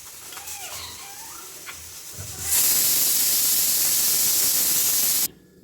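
A pressure cooker cooking chana dal lets off a loud, steady steam whistle that bursts in after a couple of seconds of quiet kitchen sounds, holds as a continuous hiss, then cuts off abruptly.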